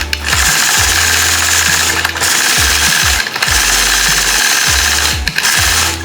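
A sewing machine runs steadily while free-motion quilting snowflakes into a 2-inch fabric strip, its motor humming loud and close with a rapid needle chatter, pausing briefly twice before starting up again.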